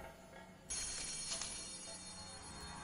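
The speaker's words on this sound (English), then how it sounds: "Where is this phone?" A telephone rings in the video game Play With Me, starting abruptly after a quiet moment and continuing as a steady electronic ringtone with faint ambient noise underneath.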